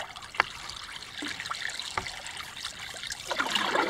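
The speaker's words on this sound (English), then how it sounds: "Put your hand in the water." A hand trails through the water beside a moving double kayak, giving a steady trickling rush with small splashes and drips close by.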